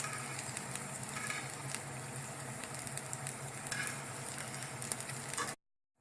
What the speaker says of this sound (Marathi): गोल्डन ब्राऊन होईपर्यंत तळून घेणार आहे